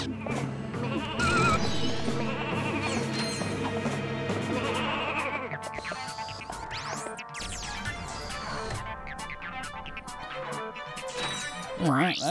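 Video game sheep from the Sheepinator weapon in Ratchet & Clank 2 bleating several times, mixed with game smashes and thwacks and a musical backdrop, with some talking over it.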